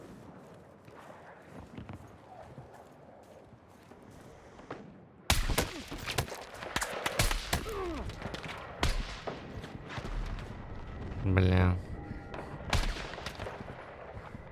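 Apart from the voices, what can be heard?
gunfire in video game Battlefield 6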